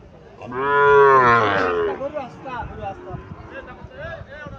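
A Sahiwal bull calf at a market lets out one loud, drawn-out moo close by, followed by a voice talking over background noise.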